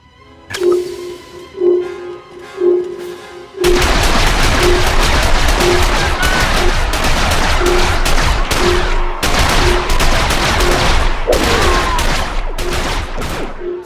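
Blaster gunfire in a Star Wars: The Old Republic combat scene on Corellia: a few spaced shots, then a loud, dense, continuous barrage of rapid blasts and impacts.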